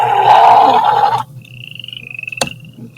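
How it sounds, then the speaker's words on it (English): A frog ribbit sound effect played back by a computer program: a burst of croaking noise, then a thin high tone with a sharp click, faint hum throughout, no talking. "Purple's playing ribbit"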